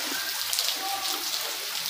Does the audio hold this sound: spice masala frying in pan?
no